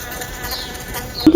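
A bee buzzes near an open window in a thin, wavering drone that shifts in pitch as it moves, close and steady, before a louder knock near the end.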